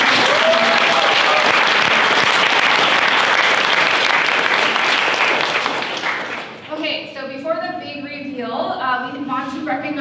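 Audience at a university venture competition finals applauding the team, a loud, sustained roar of clapping for about six seconds before it tapers off and a person starts speaking.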